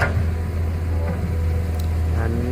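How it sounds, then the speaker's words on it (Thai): A Komatsu PC200-8 excavator's diesel engine hums steadily at a construction site while loading soil, a low constant drone with faint mechanical whine on top. "ก็หึมนะเสียงเครื่องยนต์ของเขา"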